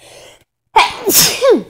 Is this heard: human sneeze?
yes